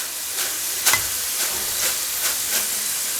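Potato cubes fry in hot oil, giving a loud, close, continuous hiss with rhythmic surges roughly every half second and one sharper crackle near the start.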